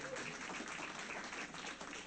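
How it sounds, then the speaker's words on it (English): Applause from the audience at a tech meetup in Harlem, a steady, fairly quiet patter of many hands clapping together, heard from a distance and continuing evenly throughout. "give yourself a round of applause"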